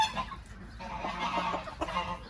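Bantam Rhode Island Red chickens cluck and chatter close by, a busy overlapping mix of short calls with steady coop noise underneath.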